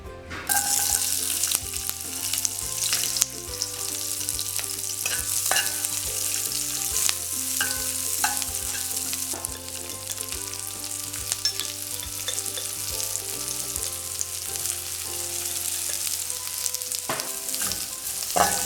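Onions, culantro leaves and pepper fry in hot oil in a pot for Trinidad-style curry chickpeas, a steady loud sizzle running throughout with occasional clicks, under continuous background music.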